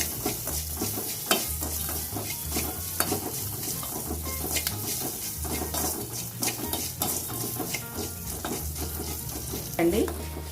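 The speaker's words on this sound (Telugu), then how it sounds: "పల్లీలు శనగపప్పు వేగింది" Peanuts and chana dal fry in oil with a steady close sizzle while a utensil stirs and scrapes the pan at intervals, and no one speaks.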